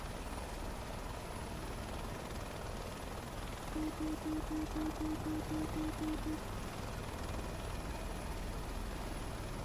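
A helicopter in autorotation with the throttle off gives a steady, close rotor drone from inside the cabin, with a faint rhythmic thumping in the middle.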